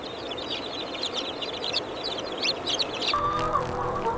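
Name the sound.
meat chickens clucking on a farm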